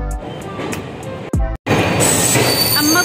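Train wheels grind and squeal along the rails in a loud, close rumble. A brief sharp break is followed by continuing metallic screeching tones, with no speech.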